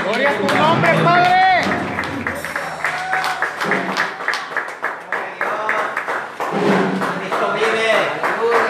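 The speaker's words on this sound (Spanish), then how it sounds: "Denle un aplauso a mi Jesús." A church congregation claps and cheers amid shouting and excited voices, the applause rising and falling in bursts under loud speech.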